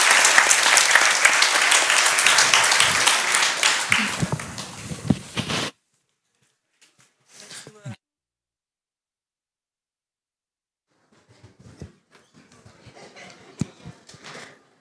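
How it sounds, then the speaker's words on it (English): At a genomics plenary session, the audience applauds the speakers with loud, dense clapping that fades out after about five seconds, followed by near silence broken by faint shuffling and scattered handling noises. "a round of applause for our speakers"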